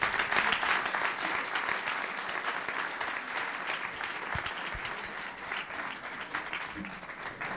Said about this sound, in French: Je pense que vous pouvez effectivement tous les applaudir très fort